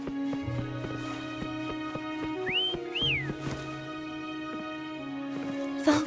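In the game Wuthering Waves, two short rising-and-falling whistles calling a mount ring out in quick succession over soft layered background music.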